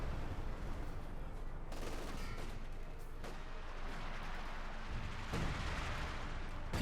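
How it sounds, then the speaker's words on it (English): A British 25-pounder artillery gun fires in a Company of Heroes 2 match, with several dull booms spaced a second or two apart over a constant wash of distant battle noise, all fairly quiet. "Artillery called in on the anti-tank gun positions. 25 pounder gun sounding off."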